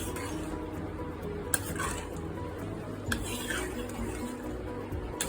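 Pakoras being added to simmering kadhi in a home kitchen pot, with soft stirring scrapes and a few light clinks of a spoon against the metal, steady and close with no talk.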